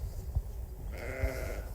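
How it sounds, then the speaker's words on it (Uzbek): A ewe that bears twins bleats once in a drawn-out wavering call near the middle, fairly close, with soft thumps and low ambient noise around it. "Egiz tug'adigan qo'y."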